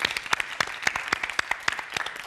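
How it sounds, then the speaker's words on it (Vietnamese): A game show studio audience applauds, a brisk, even patter of many hands clapping with crisp individual claps, moderately loud and continuous, with no talk over it. "chúng ta dành một tràng vỗ tay"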